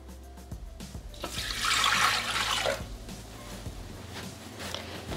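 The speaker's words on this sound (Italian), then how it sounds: "Iniziamo la ricetta mettendo all'interno del boccale l'acqua." Water is poured into a Thermomix (Bimby) mixing bowl for pizza dough, a close splashing rush that swells in the middle and then tapers to a gentle trickle.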